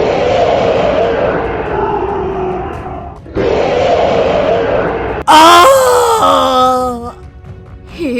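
A cartoon lion character lets out loud, rough roaring shouts, two long sustained bursts followed by a higher wailing cry, all close and forceful with no other talk.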